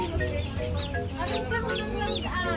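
Chicks peeping close up, a dense overlapping chorus of high, rising chirps repeating throughout at steady loudness.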